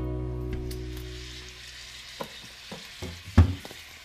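Pieces of turkey stew meat fry in a home kitchen pan, a soft continuous sizzle with a few scraping stirs and clacks of a utensil near the end, close and without talk.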